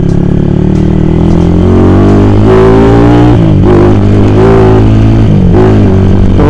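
A daily-use motorcycle fitted with a modified clutch spring revs hard as the clutch slips, a loud, close engine drone with rising and falling pitch sweeps throughout and no talking.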